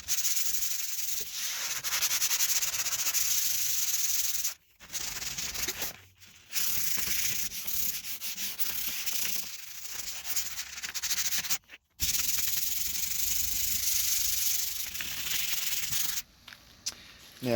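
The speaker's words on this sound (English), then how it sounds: "So let's start sanding on it." Hand sanding a vintage wooden cabinet to remove scratches and stains: steady, close, raspy scrubbing strokes that run almost continuously, broken by a few brief pauses, with no talk.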